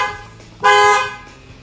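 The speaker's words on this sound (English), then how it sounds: "It's so weird that it honks." A 1999–2004 Ford SVT Lightning pickup's horn blares once, a single loud close honk lasting about half a second, set off while the steering wheel is being worked on; quiet before and after.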